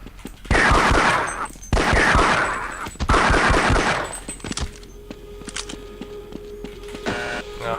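Video game gunfire rattles in three loud, rapid automatic bursts, close and punchy, followed by quieter mechanical clicks and a thin electronic whine.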